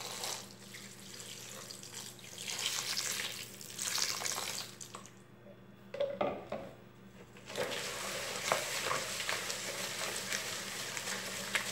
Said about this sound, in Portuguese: Eu vou colocar 300 ml de água.